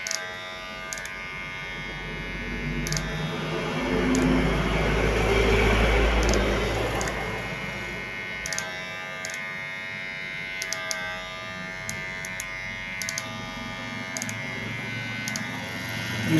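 MRY cordless hair clipper running with its blades set against each other for sharpening at a 45-degree angle, a steady close-up electric buzz that swells midway and then settles, with faint clicks.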